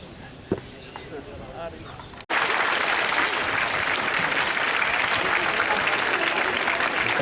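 An audience applauds to welcome school teachers at a women's police passing-out ceremony; after a few seconds of quiet talk, loud sustained clapping bursts in suddenly and carries on steadily.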